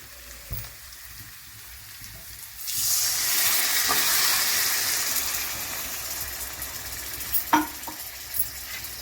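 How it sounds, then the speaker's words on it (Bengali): About half a cup of water hits a pan of frying spicy chicken curry, setting off a sudden loud sizzle that swells, holds, then slowly fades, with a few clinks of a utensil stirring afterward. "মোটামুটি আধা কাপের মতন জল দিলাম।"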